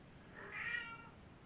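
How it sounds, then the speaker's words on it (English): Pet cats meow once in a drawn-out, moderately loud call rising over steady background hiss, with no talking. "then you hear my cats"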